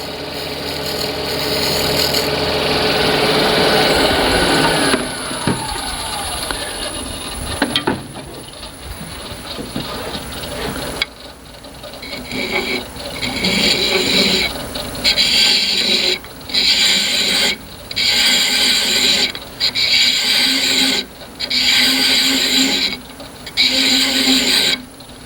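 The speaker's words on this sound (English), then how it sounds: "You'll bring it up to turning speed again and just trim a little bit" A wood lathe spins a wooden workpiece while a wooden thread is hand-trimmed, starting as a continuous whirring rumble, then breaking into a string of short, loud, evenly spaced cutting bursts with brief gaps between them.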